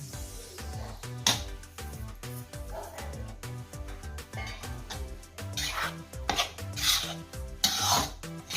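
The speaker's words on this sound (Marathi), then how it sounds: "नाचणीचे पीठ खजूर तूप हे मिक्सरला लावून झाले आहे सर्व मिक्स करून घेऊया" Ragi flour, dates and ghee being mixed together in a mixer jar or bowl, a quiet, steady rubbing and scraping texture with soft repeated knocks and clinks.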